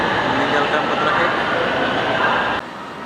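A short two-car LRT train on the Kelana Jaya line pulls out of an elevated station with a loud, steady rumbling hiss of wheels and motors that cuts down abruptly near the end.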